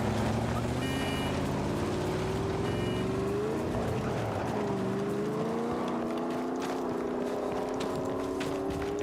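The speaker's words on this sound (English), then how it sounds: "Try not to rev too early." Boat engine revving in the video game Battlefield 6, a steady loud motor drone that rises and dips in pitch midway, with wind and water noise over it.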